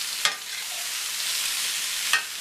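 Sausage, sweet potato and apple sizzling steadily in a skillet, with two sharp scrapes of a utensil stirring through the frying pieces, close and continuous.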